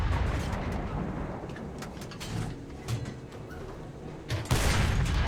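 A tank cannon shot in War Thunder punches through enemy armor, heard as a sharp boom with a broadband blast near the end, over a continuous rumbling battle din with scattered distant explosions.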